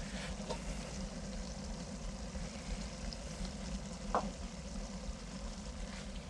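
Ground cumin being tipped into a hot kazan for Texas-style smoked chili, giving a steady, fairly quiet sizzle and crackle that runs the whole time with a few brief sharper pops and no talk.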